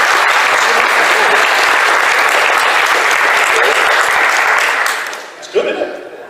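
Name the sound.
audience applause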